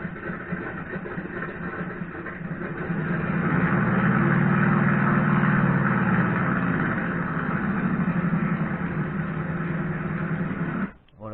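A Corsair aircraft engine played through an ESS One sound module, a continuous droning rumble that swells in the middle and settles back, steady and moderately loud before cutting off abruptly.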